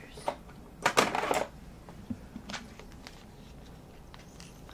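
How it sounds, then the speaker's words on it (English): Scissors snip and rustle through plastic packaging from a Dollar Tree haul, a quick cluster of close, crisp cuts and crinkles followed by a few scattered clicks and faint handling noises. "so we're getting the scissors"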